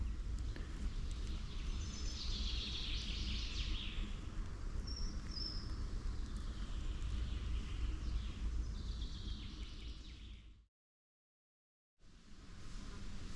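Birds sing in a summer forest during a hot, sunny midday, with chirps and whistles spread through steady ambience before a short gap of silence near the end.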